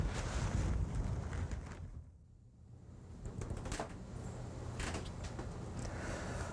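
Wind blowing outdoors beside a hobby greenhouse, a steady rushing roar with gusts buffeting the microphone, easing briefly partway through before building again, with no voices.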